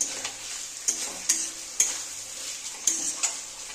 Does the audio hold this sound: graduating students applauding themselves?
no